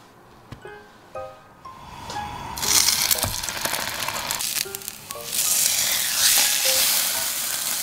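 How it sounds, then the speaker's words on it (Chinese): Bread slices fry in a pan, a sizzle that builds and grows louder, with light clicks and clatter of utensils early on and in between. "面包片煎好了"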